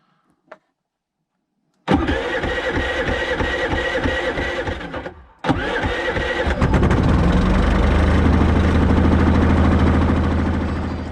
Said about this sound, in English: Whenever you turn on the generator,